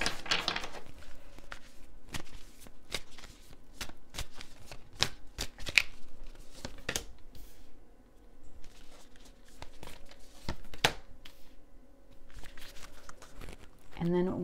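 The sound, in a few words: shuffling Moonology oracle cards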